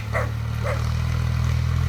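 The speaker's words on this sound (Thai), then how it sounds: "อ้าวจะมาเห่าทำไม" A dog barks twice in quick succession, close and sharp, beside a running John Deere farm tractor whose steady low engine drone continues underneath.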